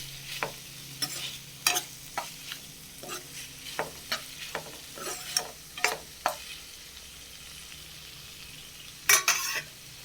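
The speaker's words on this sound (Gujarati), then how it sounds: "થોડી વાર ચડે ત્યાં સુધી આપણે હલાવશું એને।" Cauliflower being stirred in a frying pan, sharp scraping and clinking strokes at an irregular rhythm over a low steady sizzle, with a louder cluster of clatters near the end.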